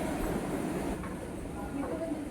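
Metro train rumbling through Shahdara metro station in Delhi, a steady low wheel and carriage drone with faint rail clatter and squeal.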